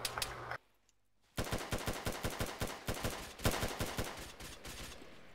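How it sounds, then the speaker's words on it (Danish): Rapid bursts of automatic gunfire in ArmA 3 ring out loud and close, with a short pause near the start before a long rhythmic volley of repeated shots. "Hvor bliver jeg skudt fra?"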